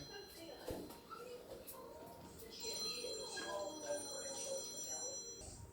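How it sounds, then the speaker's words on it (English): A phone rings with a repeating electronic tone, fairly faint, while a person talks and shuffles nearby. "Oh, my phone's ringing."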